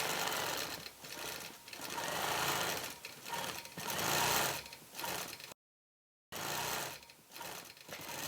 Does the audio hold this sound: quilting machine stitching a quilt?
yes